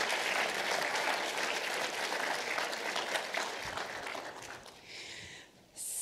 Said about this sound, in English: Let's give a round of applause for those presentations.